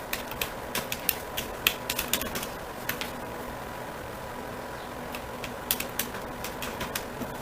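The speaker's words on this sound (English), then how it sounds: "So let's type our valid email." Fingers tap out an email on a computer keyboard in quick, uneven bursts of light clicks, close and fairly quiet, with short pauses between runs.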